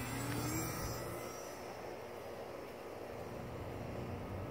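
A HiTEC HawkEYE RC glider fitted with a brushless motor flies overhead at partial throttle, giving a steady whining drone that is loudest at the start and then holds level without talk.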